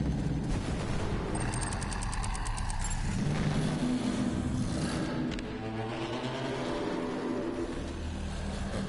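Iron Bear mech in Borderlands 3 unloading area-effect weapons, a dense continuous wash of rumbling blasts and mechanical clatter with rapid ticking bursts layered over it, steady and fairly loud throughout.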